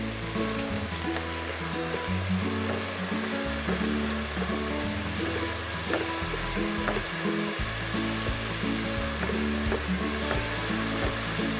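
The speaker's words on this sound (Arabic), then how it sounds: "بس تتقلى عندي اللحمة منيح" Meat frying in a pan with mixed spices and black pepper, a constant loud sizzle with occasional clicks, under a steady low-pitched hum.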